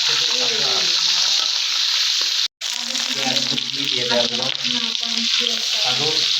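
Steady, close sizzle of spices such as black and green cardamom frying in oil, with brief stirring scrapes and a short cut partway through; voices murmur faintly underneath.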